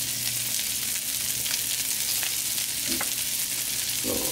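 Previously cooked vegetables sizzle and fry steadily in brown butter in a pan, a continuous close crackling hiss with occasional soft stirring scrapes.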